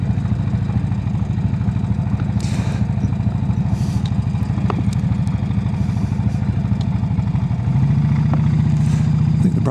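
A Brough Superior motorcycle engine runs close by, a steady throbbing idle that thickens and rises slightly near the end, alone with no voices over it.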